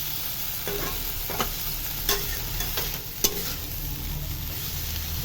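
Vegetables and spices for a spicy soybean curry are stirred and fried in a pan with a splash of water, giving a steady low sizzle with repeated scraping strokes and a few sharper clacks of the spoon against the pan.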